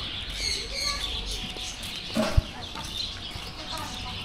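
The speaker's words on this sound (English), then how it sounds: "Okay, you can see the bird." Birds, apparently chickens or similar fowl, clucking and chirping at a park in Pondicherry, several faint calls over a busy background with a short louder burst midway.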